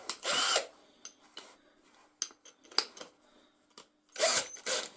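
Making a Nessmuk knife, a drill with a metal drill bit bites intermittently into the workpiece, short scraping, grinding bursts separated by quiet gaps and small clicks, close and fairly faint.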